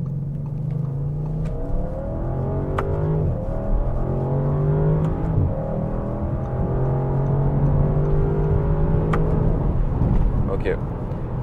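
An Audi RS6 C8 estate drives with a steady, loud engine drone and shifting tones that rise and fall, continuous throughout, with a person talking over it.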